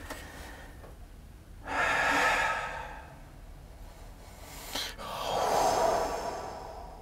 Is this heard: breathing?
yes